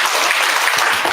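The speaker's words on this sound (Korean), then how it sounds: "박수 세 번." A church congregation claps in a dense burst of applause, many hands together filling the room for about a second.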